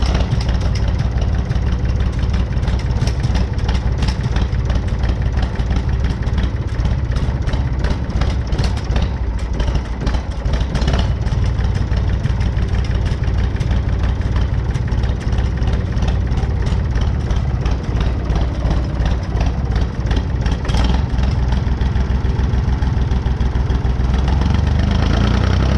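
An International 484 tractor engine idles steadily and loudly throughout, a continuous low rumble with no pauses and no voices.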